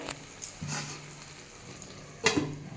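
Fish head simmering in a little water in a pan gives a soft sizzle, with a few brief clatters of the lid or utensils against the pan, fairly close and with no talk.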